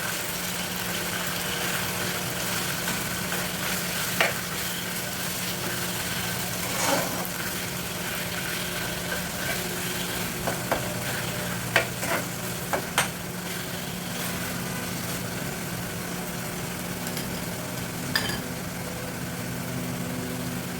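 Chicken sautés in a pan with garlic browned in oil, a loud continuous sizzle and hiss up close with scattered stirring clicks and scrapes throughout.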